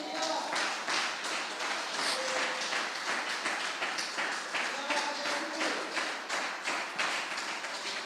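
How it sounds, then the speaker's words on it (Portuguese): Congregation applauding in a church, a steady wash of many hands clapping at moderate loudness for several seconds, with faint voices and a few tonal sounds underneath. "Então glorifique a Ele e aplauda a Ele"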